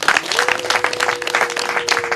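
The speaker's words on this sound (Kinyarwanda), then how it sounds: "bongere babampereye amashyi menshi" Wedding guests in Kigali break into a burst of dense, lively applause, many hands clapping close together at a steady loud level, with a faint voice or tone lingering underneath.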